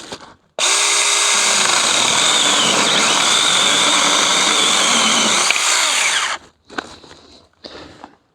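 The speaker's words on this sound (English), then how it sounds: "let's have a go at cutting with this miniature electric chainsaw by Saka." A Saker mini cordless electric chainsaw cuts through wood, its loud, steady high-pitched motor whine running for about six seconds before cutting off into a few faint clicks and knocks.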